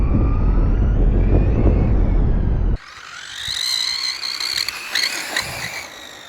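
A Traxxas Slash 4x4 VXL short-course RC truck on a 3S battery races fast with rubbing tires, starting as a loud, steady roar and then turning into a higher, wavering motor whine that rises and falls as it pulls away.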